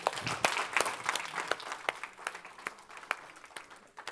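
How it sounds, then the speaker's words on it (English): An audience at a Purim service and spiel applauds for the children, a steady patter of scattered hand claps from a modest crowd, fairly faint and continuous throughout. "And a final round of applause for all of our children"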